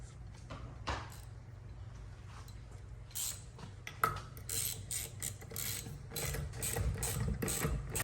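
A wrench turns an 11/16 nut on a Torqeedo tiller mount aboard a sailboat, giving close, irregular metallic clicks and ratcheting scrapes over a low steady hum, with no one talking.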